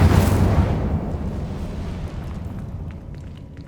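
An Incendio fire spell is cast in Hogwarts Legacy. A loud fiery whoosh bursts up at once, then settles into a roaring, crackling rumble that slowly fades.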